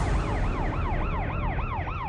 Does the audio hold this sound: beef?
no